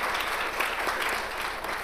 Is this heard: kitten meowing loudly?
no